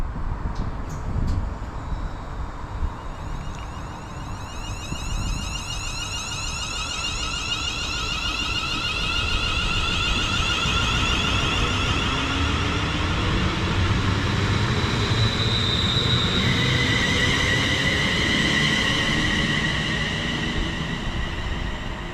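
A passenger train pulls out of a station bound for Birmingham New Street, close and loud, with a sustained rising whine and layered electric tones over a steady low rumble as it gathers speed.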